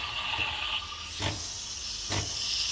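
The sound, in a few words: Nespresso Creatista Plus steam wand frothing milk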